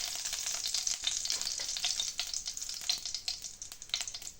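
Mustard seeds sputter and crackle in hot oil, a close, steady sizzle with dense popping through the whole stretch while a Tamil-style tomato thokku tempering gets started; no voices.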